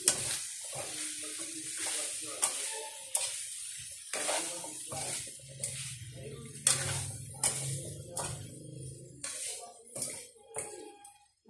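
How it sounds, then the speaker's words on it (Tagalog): Potatoes and carrots being stirred in hot oil with soy sauce and oyster sauce for a home-style menudo, giving a steady sizzle with scraping stir strokes and clinks from a utensil against the pan, close by. "Haluin natin ng mabuti mga kaguro para yung lasa niya ay talagang manuot dito sa ating patatas at saka carrots"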